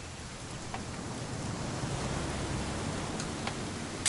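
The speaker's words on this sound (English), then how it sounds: "It's gonna rain the whole weekend, isn't it?" Rain falling in the game What Remains of Edith Finch, a steady soft hiss of rainfall with a few faint drop ticks, moderately quiet and without voices.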